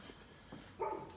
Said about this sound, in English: the dog's still barking because he loves me so much